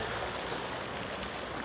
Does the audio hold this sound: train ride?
no